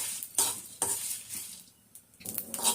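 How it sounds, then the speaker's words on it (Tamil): Chillies and spices dry roast in a pan for a pepper chicken masala, with bursts of scraping stirs, light rattling and faint sizzle that come and go in uneven strokes, close by and without speech. "மிளகா வந்து தீயக்கூடாது, தீயாம வறுக்கணும்"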